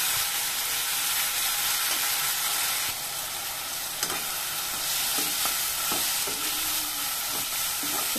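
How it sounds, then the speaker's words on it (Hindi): Tomatoes, cashews, green chilies and coriander sauté in a pan with a loud, steady sizzle and hiss, and a spoon stirs and scrapes through it at intervals, close by with no talking. "तो इसको 5 मिनट तक अच्छे से भून लेना है, टमाटे को, काजू को, हरी मिर्ची,"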